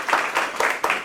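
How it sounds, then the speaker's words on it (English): Audience clapping at a morning training event, a short burst of applause with uneven rhythmic claps swelling and fading over about a second. "so let's give them a round of applause."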